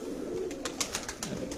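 A pigeon coos softly and low over a steady background, while short sharp clicks or rustles sound repeatedly nearby.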